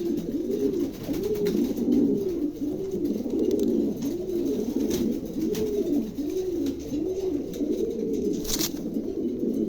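Pigeons, a pair of lavender or silver Lahori birds among others for sale, coo in a steady rhythmic series of rolling calls, close and fairly loud, repeating throughout with no talk.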